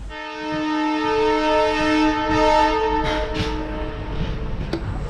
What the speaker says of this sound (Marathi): आता गाडीने हॉर्न मारला आहे